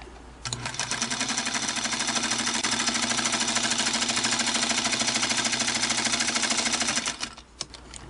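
A Singer 221 Featherweight sewing machine runs steadily for about seven seconds, a fast, even mechanical chatter of stitching close up, then stops with a couple of small clicks.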